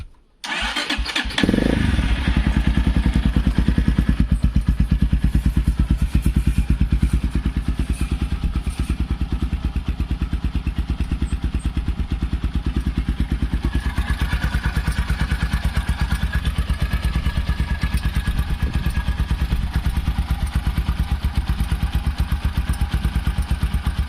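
A Forte CBA 250 enduro motorcycle with a 166FMM engine and a cold carburetted single is started: a short crank, then it catches and idles loudly with a steady rapid thumping and mechanical clatter close by.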